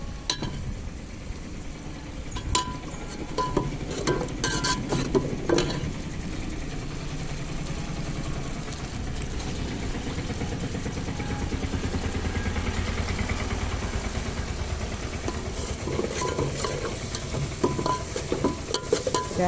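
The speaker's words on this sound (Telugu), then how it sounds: "ఉల్లిపాయలు వేసిన తాలింపులు." Onion tempering sizzling in a pan for a tomato and fenugreek leaf curry, heard as a continuous moderate frying hiss with stirring and scattered clinks, close by amid a low background hum, with no speech.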